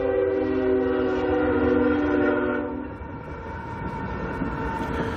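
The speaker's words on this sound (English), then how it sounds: "I got a train coming." A train horn sounds in long sustained tones for about two and a half seconds, then a long train rumbles and rattles past nearby, loud and steady.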